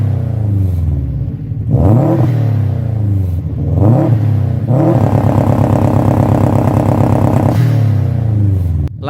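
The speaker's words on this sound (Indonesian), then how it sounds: "Suara dari mesin turbocharged ini juga khas banget." A loud turbocharged Subaru Impreza WRX STI engine revs repeatedly, climbing in pitch and dropping back, then holds a sustained high-revving roar close up.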